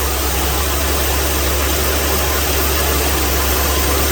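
A 1981 Pontiac 305 V8 with a flooding carburetor idles too fast, giving a steady, even engine drone with no break or change in pitch.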